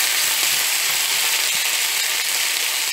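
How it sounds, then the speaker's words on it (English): Onion, tomato and yellow pepper sliced thick and frying in a pan after beef, for a Peruvian lomo saltado; a steady, loud, dense sizzle fills the whole stretch with faint crackles and no voices. "now I am going to fry the onion and the tomato and the yellow pepper"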